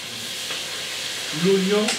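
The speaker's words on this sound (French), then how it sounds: "on est en train de rajouter l'oignon puisqu'on a fait préchauffer un petit peu d'huile dans la casserole" Chopped onion sizzles in preheated oil in a saucepan, a steady close hiss of frying, with a voice speaking briefly over it near the end.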